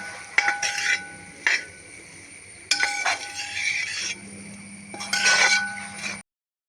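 Lemon pickle (vaduka puli) being mixed in a pan, giving a series of metallic scrapes and clinks of a spoon against the pan in irregular bursts, fairly close, with no talking.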